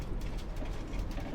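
A metro train rumbles past in The Bus driving game, a steady rolling clatter close by with no voices over it.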